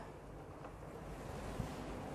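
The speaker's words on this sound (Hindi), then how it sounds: "ये दोनों पाइप से पानी निकल रहा है।" Water streams steadily from the two pipes of an Enagic Kangen water machine into a mug, a constant close hiss that stays even throughout, with no speech.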